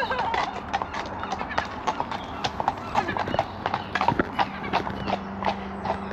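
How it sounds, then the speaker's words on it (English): Steady clip-clop of horse hooves trotting on a hard surface in Conway, Wales, a brisk regular rhythm continuing throughout with faint voices in the background. "Nice horses."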